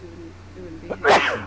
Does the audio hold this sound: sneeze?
yes